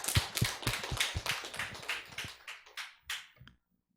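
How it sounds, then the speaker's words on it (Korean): A church congregation gives a short burst of hand clapping during a Wednesday service, a dense run of sharp claps lasting about three seconds, then tapering into a few scattered final claps before silence. "다시 한번 박수 쳐요"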